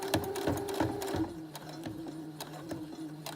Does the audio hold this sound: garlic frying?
no